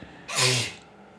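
A single sharp sneeze bursts out close by, brief and loud, with a quick breathy release.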